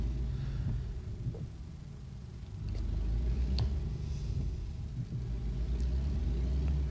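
A heavy truck in a truck-driving video game pulls out with its parking brake released, giving a steady low engine rumble that swells slightly as it moves off, with no talking.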